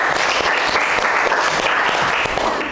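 Sustained, dense applause from a classroom audience, steady and loud throughout with no break.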